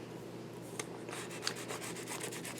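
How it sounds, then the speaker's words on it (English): A burnisher rubbing an adhesive sheet down onto a surface, heard as faint, close, repeated rubbing strokes in a steady rhythm with no talking. "go ahead and burnish this to make sure that it's well adhered"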